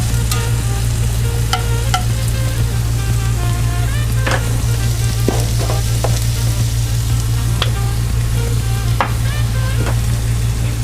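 Hamburger Helper sautés in hot oil in a pan, a loud, constant sizzle running throughout with occasional scraping strokes and taps as it gets stirred.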